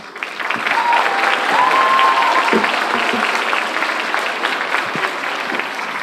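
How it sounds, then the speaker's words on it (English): Audience at a communications studies speech competition applauding, a full, sustained round of crowd clapping that swells early and holds steady with slight tapering, with no voices over it. "Let's give them one more round of applause."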